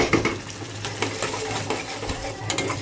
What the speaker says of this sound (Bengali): এখন শুধু কাজ হচ্ছে এটা নেড়ে নেড়ে একদম শুকনো করে ফেলা